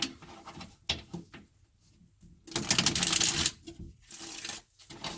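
Crisp riffling and slapping of tarot cards being shuffled, close up, in a few bursts with short pauses between, one longer flurry in the middle.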